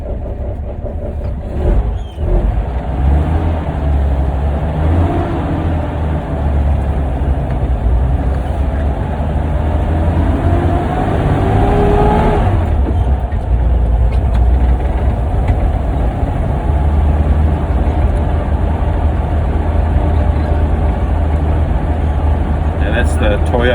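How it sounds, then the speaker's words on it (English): A Toyota F155 engine with a 5-speed gearbox, fitted to a truck, runs steadily and loudly as a continuous low rumble throughout, with a voice talking over it. "That's the Toyota F155 motor running a 5-speed box. It's running well."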